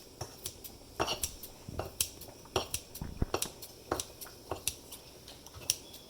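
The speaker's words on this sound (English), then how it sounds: "So I have chopped the cilantro with the scissors." Rapid, irregular snips of scissors cutting through cilantro, crisp metallic clicks repeating close by with no talking.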